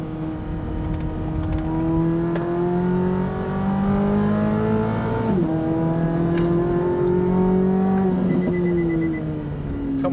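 A Corvette C8 Z06 on a race track with aftermarket track wheels and tires. Its engine holds a loud, close, sustained tone, dips sharply once as it shifts, then climbs and eases again.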